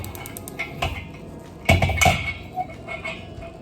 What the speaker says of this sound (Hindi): सबसे पहले एक पुराना सा डीप तवा मैंने लिया है, चूल्हा ऑन कर लें